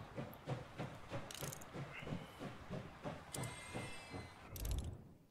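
A train rolls along in the video game Last Train Home, with rhythmic wheel clacks over rail joints, bursts of steam hiss and mechanical clanks, moderately quiet and steady.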